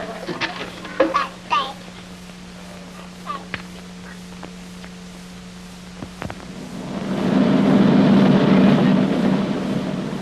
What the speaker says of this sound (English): the war begins at dawn, when the engines start turning at Vientiane Airport